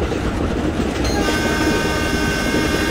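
A passenger train in Train Simulator Classic rumbles steadily, with a sustained horn tone joining partway through and continuing to the end.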